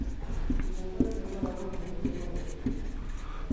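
Chalk or marker strokes on a classroom board in an electrician lesson on resistor combinations, a series of short scratchy taps and scrapes at a steady rhythm, fairly close, with faint room noise and no talk.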